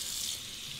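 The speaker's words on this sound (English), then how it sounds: "Let's warm up the bowl under hot water." Hot tap water running into a shaving bowl, a steady close hissing stream with no talk over it.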